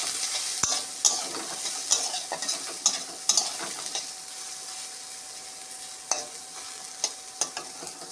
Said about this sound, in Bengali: একটুখানি হলুদ দিলাম সোয়াবিন ভাজার সময়।